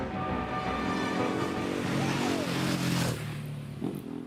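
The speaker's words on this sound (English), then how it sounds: "I give you the mighty World Superbike Champion machine, the Ducati 999!" A Ducati 999 World Superbike with a V-twin engine runs and revs, a steady rumbling drone with rising pitch sweeps, fairly close, then tapering slightly at the end.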